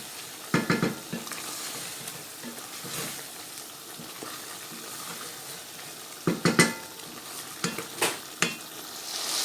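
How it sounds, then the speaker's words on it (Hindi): Chicken frying in a pan with a steady sizzle under repeated stirring, the spoon scraping and knocking against the pan in short bursts, close and clear. "अब इनको अच्छे से मैं भूनूंगी"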